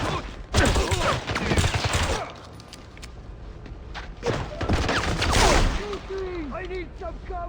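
Gunfire and impacts from the James Bond 007 Blood Stone video game crack in loud clustered bursts at close range, mixed with thuds, clattering debris and game voices.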